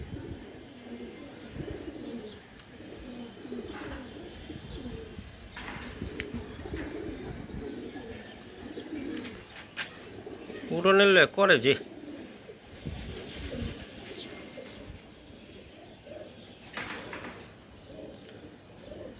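Racing homing pigeons coo softly in the background, with low rolling calls repeating under someone talking nearby and a brief sharper flutter or call midway.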